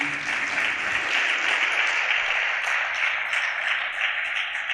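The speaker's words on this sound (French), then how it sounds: "Je vous demande tout simplement de les applaudir" Audience applause at a conference session, a steady, dense clapping from a large crowd that holds evenly throughout at moderate distance.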